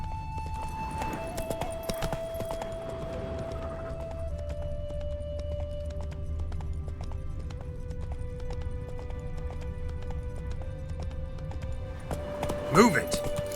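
Hooves of a horse in The Witcher 3 clip-clop in a steady rhythm throughout a game scene, with music tones and a brief whinny near the end; a voice speaks over it.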